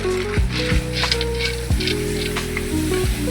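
Raw green peas tossed into a hot pan of masala for a large batch of dhaba-style paneer matar masala, with steady sizzling and frying broken by several clanks of a ladle stirring against the pan.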